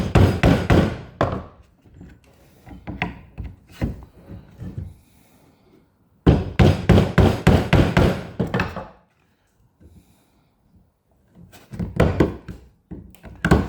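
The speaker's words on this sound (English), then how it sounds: "Just removing the plugs out of the screw hole so that the screws can actually come out easily without breaking any of the wood apart." Wooden plugs being pried out of screw holes in a rotten boat galley front, giving bursts of close knocking, thunking and scraping in two main clusters with quieter pauses between.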